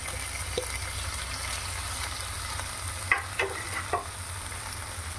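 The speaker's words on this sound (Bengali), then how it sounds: "এবার আমরা এটাতে মাছগুলো দিয়ে দেব।" Fish pieces go into fried spiced oil with fried radish and dried lentil dumplings for a Bengali fish curry, giving a steady sizzle with a few sharp clinks and scrapes of stirring near the end and no talk.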